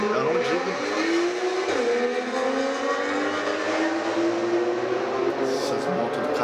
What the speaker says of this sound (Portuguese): Essas motos do caralho.